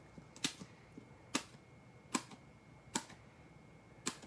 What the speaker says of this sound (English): I'll just use the scissors this time to cut them.